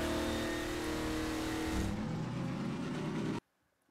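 A car in Half-Life 2: Episode 2 pulls away, its engine roaring loudly and steadily with a rising revving tone, then fading before cutting off abruptly to near silence at the end.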